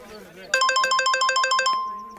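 A phone ringtone chimes in a rapid, evenly pulsed electronic pattern for about a second, loud and close, then fades away.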